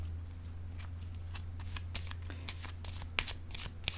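Tarot deck shuffled and a card drawn: soft, close papery flicks and slides in an irregular run, over a steady low electrical hum, with no voice.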